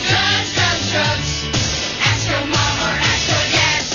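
A loud, dense drug-themed public service announcement theme song plays steadily, with a rhythmic beat and layered tones that fill the whole stretch.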